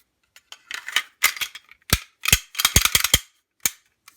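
Slide being reinstalled onto an SG Armory Craft P320 pistol: a sequence of sharp metallic clicks, scrapes and snaps, close up and crisp, with a quick cluster of clacks near the end followed by one final click.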